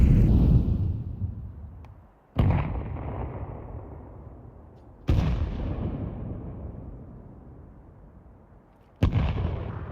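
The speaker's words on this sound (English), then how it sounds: "Just nades going off all across the map. Sounds like fireworks." Grenades bursting across a Counter-Strike 2 match map, four sharp explosive booms spaced a few seconds apart, each trailing off into a long rumbling decay, with no talk over them.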